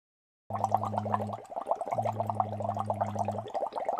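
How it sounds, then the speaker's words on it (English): A voice hums steady tones while blowing bubbles through a straw into water, in two sustained stretches of bubbling drone separated by a short pause, close and soft. "we're humming and we're blowing bubbles at the same time"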